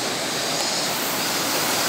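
A waterfall pouring into a river near an abandoned tea farm in Japan, a loud, steady, close rushing roar of water with no voices.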